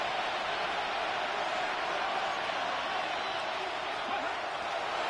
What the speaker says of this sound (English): The crowd cranking it up another notch before third